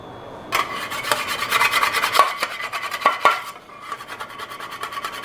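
A metal bench scraper scrapes carbon buildup off a ceramic frying pan in a run of close, rasping strokes for about three seconds, then trails into quieter scratching.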